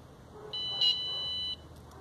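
An electronic circuit board tester on a repair bench gives a single sustained beep of about one second, loud and clear against a quiet background, with no talking.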